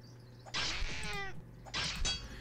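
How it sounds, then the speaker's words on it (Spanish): A cat in The Wild Darkness survival video game lets out two drawn-out, whiny meows about a second apart, close and clear over a faint low hum. "Y hay un gato, tío."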